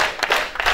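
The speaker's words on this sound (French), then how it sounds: "Applaudissons. Applaudissons. Applaudissons." Brief burst of audience applause at a Sunday church exhortation, a short patter of clapping rising and falling in quick waves, moderately loud and heard alone.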